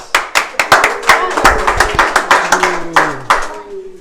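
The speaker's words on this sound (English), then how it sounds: "Give yourselves a nice round of applause." Underground cave tour group claps, a loose, uneven run of close hand claps, while voices talk over the clapping.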